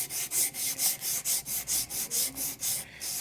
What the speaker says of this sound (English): hit it with some little sandpaper real quick. It'll buff it up, make the difference in the world.